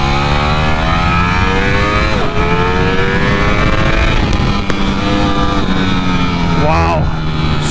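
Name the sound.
Ducati Streetfighter V4 motorcycle accelerating in first gear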